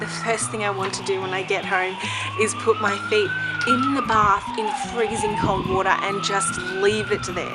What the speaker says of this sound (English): I'm sorry about the siren in the background too.